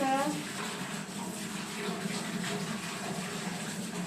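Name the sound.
running tap water rinsing surgical instruments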